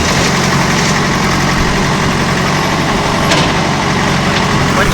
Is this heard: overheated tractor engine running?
yes